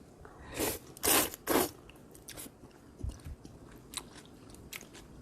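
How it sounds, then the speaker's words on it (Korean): Someone eats kongguksu, cold soy milk noodles, up close: three loud bursts of slurping or biting come first, followed by quieter, scattered chewing sounds. "그러면 콩국수를 먹어보겠습니다."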